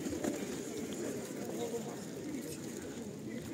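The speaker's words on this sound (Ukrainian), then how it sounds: "Голуби гарно зібрались" Soft pigeon coos murmur low and steady in the background, blended with continuous outdoor ambience in the rain in Truskavets; faint voices are also present.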